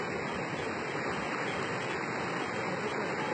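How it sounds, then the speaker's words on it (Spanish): Rushing river water flows loud and steady without pause, a dense broadband roar in a rural stream crossing, with no voices over it. "Jamie, el río posiblemente te va a levantar"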